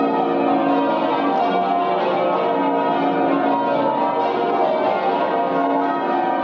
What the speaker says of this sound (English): Oh, listen to the bells. Bells of St. Paul's Cathedral.